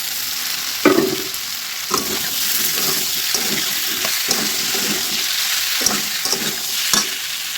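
Pointed gourd (potol) stir-frying in a pan with a little sugar for a vegetarian Bengali dish: a continuous sizzle punctuated by rhythmic spatula scrapes and knocks roughly every second, close and fairly loud.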